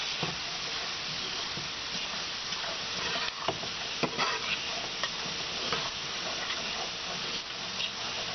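Garlic, green onions and dried celery stirred into a butter roux over a flame for shrimp courtbouillon, a continuous hissing sizzle with scattered scraping stirs, near and fairly even, no talking.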